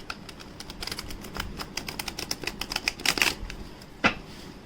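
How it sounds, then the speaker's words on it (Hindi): A deck of tarot cards is shuffled by hand, producing rapid bursts of crisp, papery clicks that thicken into a dense flurry before one sharp final snap, close up with no talking. "सो एक बार अच्छे से शफल कर लेते हैं।"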